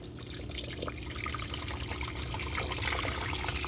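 Liquid pours steadily back into a cooking pot while a pumpkin-spiced dish is being made, a continuous close splashing trickle that runs unbroken for a few seconds with no voices.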